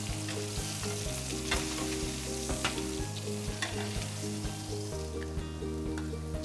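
Steady, crackling sizzle of steak and shrimp cooking in a Fagor industrial convection oven, with a constant hiss and occasional pops, close and continuous with no talking.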